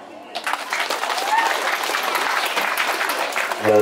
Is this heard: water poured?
no